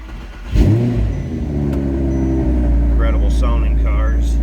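A 2012 Audi R8 V10 Quattro fires up with a sharp burst, then settles into a steady, loud idle with a rising rev. Speech-like voices chirp faintly near the end.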